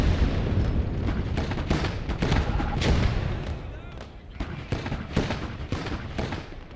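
Gunfire and artillery-like thuds in the World War II strategy game Gates of Hell, loud bursts and booms repeating irregularly over a rumbling battle bed, with a voice talking under the shooting.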